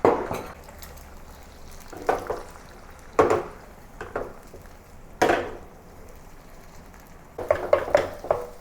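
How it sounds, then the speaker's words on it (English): A spatula scrapes and chops through two beaten eggs scrambling in hot oil in a pan, giving sharp intermittent clacks and scrapes in irregular bursts over a soft continuous sizzle. "use the spatula to break it into small pieces"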